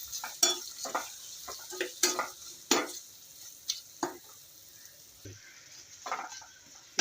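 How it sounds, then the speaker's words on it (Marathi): A spoon stirs a salt and amchur mango powder mix in a pan, giving scattered scraping clinks and light sizzling taps at an irregular pace, close up with no talk. "त्याच्यामध्ये आमचूर पावडर 2 चमचे टाकायचे आहे आणि हे मिक्स करून घ्यायचे."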